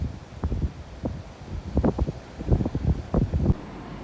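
Gusts of wind on a morning drive near Daintree National Park and Cooktown, Australia, buffet the microphone in uneven low thumps and rumbles, coming in bursts that rise and fall over a soft background.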